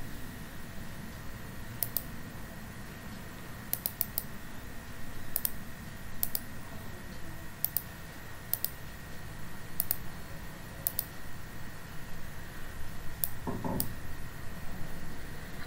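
Terminal command typed on a computer keyboard in a Kubuntu console: sparse, crisp key clicks in small clusters over quiet background hiss, with a couple of louder taps near the end.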